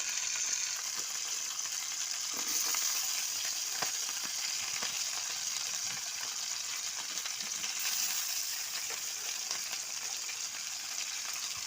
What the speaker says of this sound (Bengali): মাছের মাথাটা ভাজা হয়ে গেছে, এবার আমি আলুগুলো দিয়ে দিব